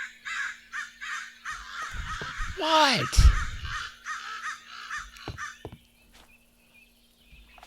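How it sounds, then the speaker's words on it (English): A crow caws loudly in a modded Minecraft game, a harsh repeated call standing out from a quiet ambient background while someone briefly speaks. "Is that a bird somewhere?"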